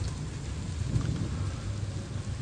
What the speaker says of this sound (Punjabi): ਹੈਵੀ ਕਿਸਮ ਦੀ ਬਾਰਿਸ਼